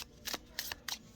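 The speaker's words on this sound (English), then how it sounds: "But riffle shuffle all day long." Tarot cards are riffle shuffled in three quick crisp bursts of flapping, each a short fluttering rasp, close and quiet.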